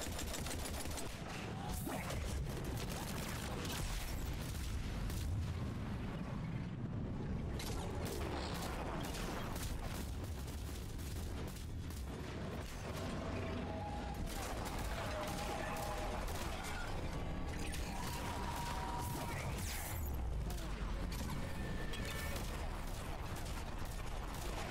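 Explosions and dense gunfire go off in a battle against a harvester in Mass Effect 3. The sound is a continuous loud barrage of blasts and rattling shots that keeps going throughout.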